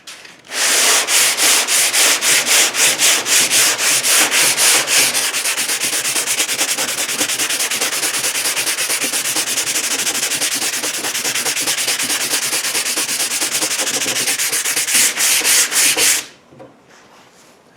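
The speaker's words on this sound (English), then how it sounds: "I'm doing a crisscross type of pattern. That's so you don't dig in and create a groove or anything like that. Block sanding." Steady, loud rhythmic strokes of a sanding block working body filler on the decklid of a 1968 Mustang in a crisscross pattern, continuous scraping rasps for about sixteen seconds before stopping abruptly.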